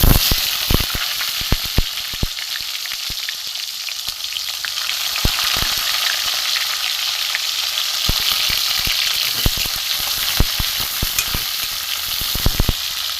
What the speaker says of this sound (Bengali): এতে আমি পেঁয়াজ দিয়ে দেবো